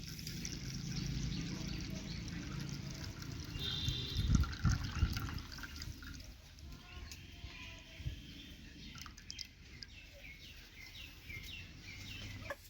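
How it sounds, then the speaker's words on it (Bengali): Water is poured off settled homemade corn flour into another container in a home kitchen, a steady, fairly quiet liquid trickle and splash running for several seconds with a brief louder gush partway through, without talk. "এবার একটা জায়গায় জলটা ঢেলে নেব"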